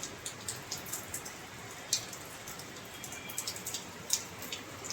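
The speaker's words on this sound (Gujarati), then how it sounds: "એટલો વરસાદ આવે કે અમારે તો રૂમમાં પાણી ગળી ગયું" Heavy rain falls steadily, with scattered drops tapping sharply on a nearby surface over a constant soft hiss.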